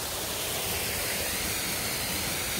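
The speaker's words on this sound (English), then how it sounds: "This is a spillway you're hearing." Water rushes steadily down a spillway at the Hoosac Tunnel, a continuous broadband roar heard at moderate distance with no voices.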